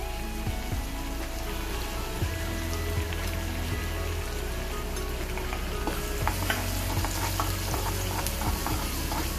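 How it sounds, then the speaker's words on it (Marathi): Asafoetida and turmeric sauté in a hot pan of oil, a steady close sizzle with occasional stirring scrapes and clinks running throughout. "थोडं परतते तोपर्यंत आपण त्याच्यात थोडस हिंग घालूया."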